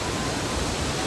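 Water from a waterfall rushes in a steady, dense hiss close by, unbroken throughout.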